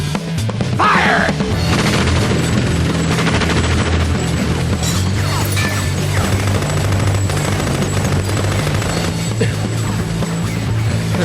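Loud, continuous video game battle din of rapid gunfire and blasts layered over rumbling engine drone, sustained dense and close throughout without pause.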